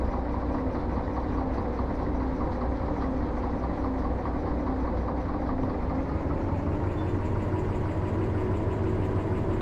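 Shunter locomotive engine in the Derail Valley video game, a steady loud diesel rumble with a slight rise in pitch toward the end as it strains for speed, continuous and close, no talking.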